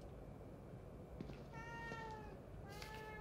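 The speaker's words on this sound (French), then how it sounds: "c'est le même chat en plus." A cat meows twice in the video game The Evil Within 2, drawn-out tonal mews over a low steady background hum, fairly faint and with no talk.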